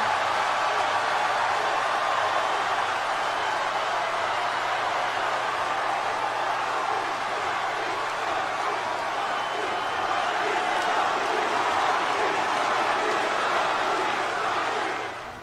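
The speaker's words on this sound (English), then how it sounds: "The crowd that night exploded." A large wrestling crowd roars loudly and steadily, a dense unbroken wall of cheering and noise that holds at full strength throughout before easing slightly at the very end.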